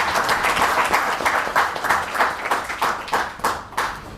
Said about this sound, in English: So perhaps you can pause just for a round of applause.